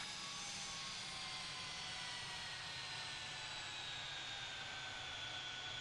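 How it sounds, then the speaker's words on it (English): Jet airliner climbing away from the runway in the video game Tower! Simulator 3, a steady, even engine roar with a whining high tone that slowly falls, alone and with no voices. "Successful takeoff."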